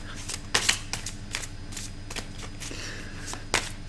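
A deck of cards is shuffled and cut by hand close by: soft riffling and rustling broken by a few sharper snaps and taps, with no talk over it.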